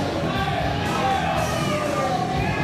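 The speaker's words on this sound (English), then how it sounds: "Look at this crowd. Look at this crowd here at the world famous Nile Theater." At a wrestling event in the Nile Theater, a crowd roars in a steady, dense wash of cheering while a commentator talks loudly over it.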